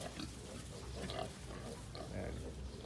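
Piglets in a farrowing pen grunt softly and continuously, with low snuffling oinks close by at a faint level.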